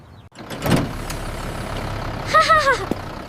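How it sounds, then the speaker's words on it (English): A school bus pulls up with a short hiss of air brakes, followed by a brief squealing brake or horn-like tone, close and fairly loud with no talk. "The bus is here."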